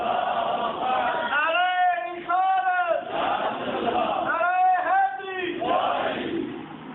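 A large crowd at an Urdu religious gathering shouts a slogan in unison, with loud call-and-response chanting rising and falling in several waves.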